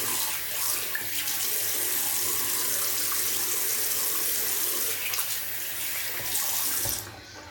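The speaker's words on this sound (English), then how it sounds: "I'll rinse off so everyone can see." A tap runs steadily into a sink while someone rinses off, a constant rushing splash with slight shifts in flow, cutting off abruptly near the end.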